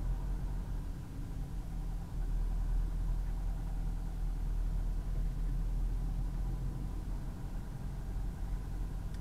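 A car engine drones steadily while pulling away in second gear during a driving lesson in Créteil. The low rumble stays even and continuous with no one talking.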